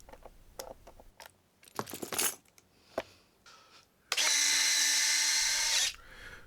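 A powered hex driver tightens screws on an FMS CJ-6 model plane, heard as a loud, close, sustained whir of almost two seconds after scattered clicks and handling taps of small parts, with no talking.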